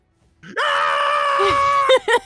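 Sylveon's Hyper Voice attack in a Pokémon video game, a loud sustained high-pitched synthetic scream lasting over a second, followed by a couple of shorter cry bursts, with no talk over it.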